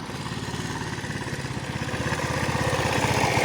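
An SR 125 motorcycle engine runs close by with a steady, rapid, throbbing putter that grows slightly louder as the clutch engages. No voices are heard.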